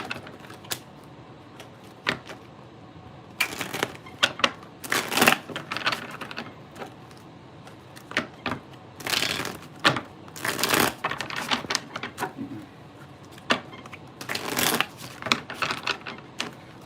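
Tarot cards shuffled by hand in repeated crisp bursts of riffling and snapping, close by, spread over about seventeen seconds with short pauses between bursts and no talking.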